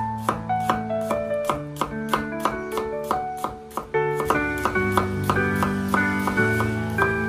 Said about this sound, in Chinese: 用刀把它切成蒜片